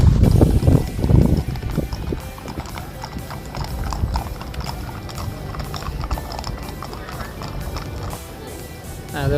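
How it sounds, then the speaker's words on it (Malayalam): Horses' hooves clip-clopping in a mounted horse parade at an outdoor Qatar heritage event, rhythmic hoof strikes passing nearby amid crowd murmur and voices, louder at the start then settling into a steady trot. "ആദ്യം തന്നെ കുതിര പുറത്ത് കയറിയിട്ടുള്ള ഒരു പരേഡാണ് കേട്ടോ."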